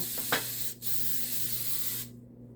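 Cooking spray hisses onto a brownie baking pan in a close, steady spray lasting about two seconds, with a short break before it stops.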